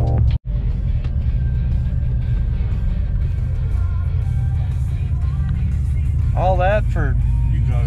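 A Chevrolet Silverado pickup cruises into town, its steady low engine and road rumble running unbroken beneath continuous conversation inside the cab.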